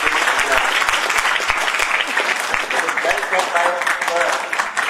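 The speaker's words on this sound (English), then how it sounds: "A big round of applause" Applause for a speaker at a national seminar, a loud, dense round of clapping from a seated audience that carries evenly from start to finish with no pauses.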